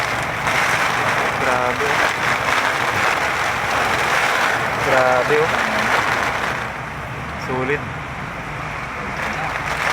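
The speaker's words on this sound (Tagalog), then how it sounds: "sobrang lakas ng ulan." Heavy storm rain drums hard on a stopped car, a dense, loud, continuous hiss and patter filling the cabin while people inside talk over it.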